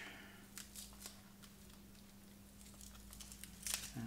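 Plastic packaging being unwrapped from a 3D printer filament spool: quiet, intermittent crinkling and rustling close by over a low steady hum, with a brighter crackle near the end.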